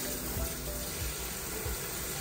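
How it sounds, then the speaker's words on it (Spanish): Warm water pours from a hose into a tub in a bathing setup for Shih Tzu dogs, a continuous soft splashing rush with a few low thumps and no talk. "cuando abro así de recién sale el agua muy caliente y ya después se mezcla con la fría"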